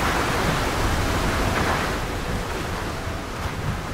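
A waterfall in the Fortnite video game pours with a steady, loud, broadband rush of water that fills the whole clip without a break, and no voices are heard.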